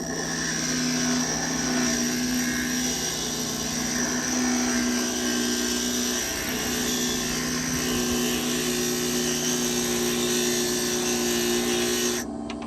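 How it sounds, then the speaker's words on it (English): Rotary grinder grinding the tip of an agatized coral preform, a steady high-pitched whine with a constant tonal hum running for about twelve seconds before cutting off abruptly near the end, close and loud with no talking. "I'm going to grind a little of this tip off just to even it up."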